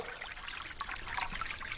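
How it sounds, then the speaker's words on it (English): Water trickling into the small cups of a homemade chicken waterer, a soft continuous dribble and splash close by, with no talk. "And we have water going into the cups."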